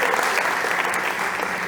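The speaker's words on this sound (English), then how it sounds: "Big applause for Susana, please." Steady applause from a conference crowd at a startup competition stage, a dense, continuous wash of clapping throughout.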